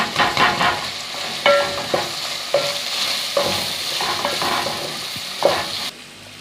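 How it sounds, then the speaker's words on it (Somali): Chicken, stock and spices stirred in a pan, with a utensil scraping in repeated strokes through the sizzling mixture, loud and close with no voices, ending abruptly. "adoo soo qasaa."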